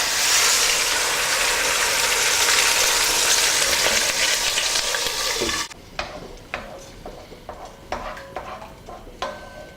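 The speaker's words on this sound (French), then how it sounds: "Quand le gras est bien chaud, je mets les tomates." Tomatoes dropped into very hot fat for an amatriciana sauce, giving a loud, dense, steady sizzle close by that suddenly drops to a softer crackle with scattered sharp pops and spatters.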